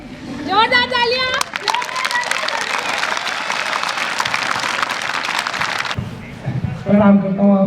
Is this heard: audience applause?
yes